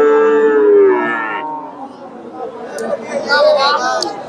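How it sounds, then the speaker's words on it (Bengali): A Friesian heifer at a cattle market gives a loud, close, drawn-out moo, followed by crowd chatter and voices in the background. "এখানে একটা দেখেন, ফ্রিজিয়ান জাতের বকনা।"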